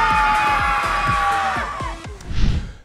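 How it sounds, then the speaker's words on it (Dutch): Children cheering and shouting together after scoring at a school sports activity, a loud burst of group voices close by, rising sharply near the end after a brief lull. "Wie het hardst kan juichen."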